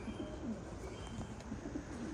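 Ice blue show pigeons coo close by, a soft, repeated low burbling from several birds over a faint background hum.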